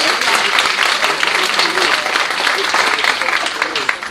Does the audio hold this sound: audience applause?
yes